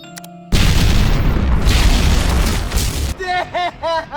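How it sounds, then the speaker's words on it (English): A huge explosion blows a dam apart in a film scene: after a brief quiet opening, a sudden loud roaring blast fills about two and a half seconds, then gives way to short tonal bursts and voices. "Abby detonates the explosive she planted, blowing the dam to pieces"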